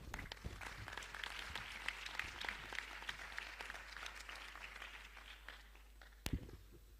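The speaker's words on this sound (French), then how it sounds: "Sous vos applaudissements." Steady audience applause filling a conference hall at the UN Water Conference, many hands clapping at once, faint and sustained, with a sharp knock near the end.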